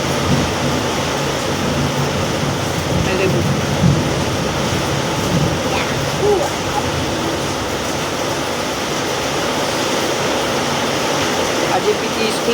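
Heavy monsoon rain during a thunderstorm: a constant broadband roar of falling rain that stays even for the whole stretch, with faint scattered voices and small knocks in the background.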